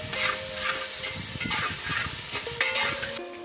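Tomatoes tipped into a hot pan with ginger-garlic paste for Kerala-style green pepper chicken curry, giving a steady close sizzle and fry with soft scraping stir strokes throughout.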